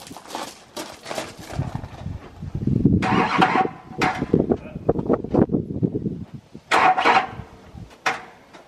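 An LB7 Duramax diesel pickup with 132,000 miles, unstarted for six years, cranks and catches in several rough bursts, close by and fairly loud, with people talking in between.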